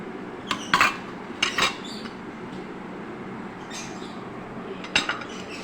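Spices mixed into minced meat in a bowl, with soft steady rustling under a few light clinks and taps of a utensil against the bowl, faint and close with no talking.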